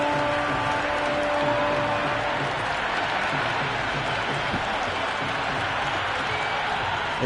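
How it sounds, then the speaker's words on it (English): Cricket crowd at a Vijay Hazare Trophy one-day match between Baroda and Jammu & Kashmir, a steady roar of applause and cheering holding at an even level throughout, with faint voices mixed into the wash. "The crowd is electric right now."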